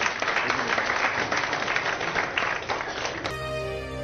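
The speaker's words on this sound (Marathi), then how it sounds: "जोरदार टाळ्या पुन्हा एकदा सरांसाठी" A crowd claps loudly and steadily for a guest speaker at a business talk in India, the dense applause lasting about three seconds before music cuts in.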